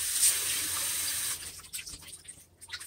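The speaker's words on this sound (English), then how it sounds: "And now I'm just going to put some more water in." Water running from a tap into a jar of sprouting seeds, a steady bright hiss that cuts off partway, followed by softer sloshing and splashing.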